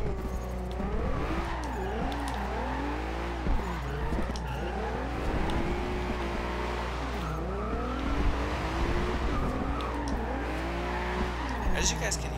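A Volkswagen Golf R32 budget build in the Forza Horizon 2 racing game: the engine revs rise and fall repeatedly over a steady low drone, with tires squealing and skidding as the car spins out, continuous throughout.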